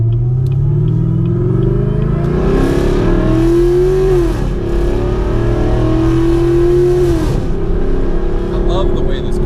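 Supercharged car with a Whipple supercharger accelerating hard through the gears, a loud close engine roar that rises, drops briefly at each shift and climbs again for nearly ten seconds.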